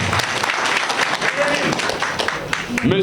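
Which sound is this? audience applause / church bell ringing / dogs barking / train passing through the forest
audience applause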